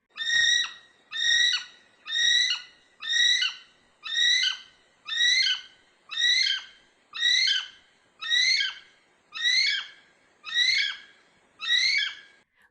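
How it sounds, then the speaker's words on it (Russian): Twelve evenly spaced, loud shrill calls from a kiwi, a New Zealand bird, repeat in steady rhythm with brief gaps between them and no other sounds. "И вот словно волшебство раздались звуки киви-киви."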